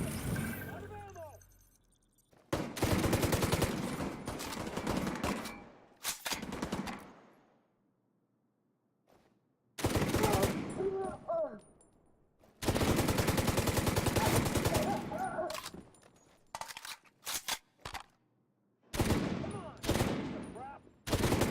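Gunfire in The Division 2, with bursts of automatic weapon fire coming in several long volleys separated by gaps, loud and close, mixed with shouted voices between and over the shots.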